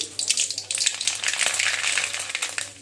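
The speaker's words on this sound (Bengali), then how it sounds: "আমি এখন এটাতে প্রথমে সর্ষে ফোড়ন দিয়ে দিচ্ছি" Mustard seeds tempering in hot oil for a Bengali dish of bamboo shoots with dried prawns give off a steady, crackling sizzle, close and fairly loud, running continuously with no talk.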